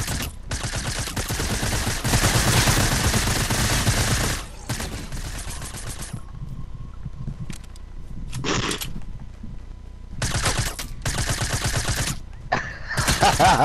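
Long bursts of rapid automatic gunfire in Fortnite Prop Hunt, loud and dense, broken by short gaps and quieter stretches, with several separate volleys of shooting.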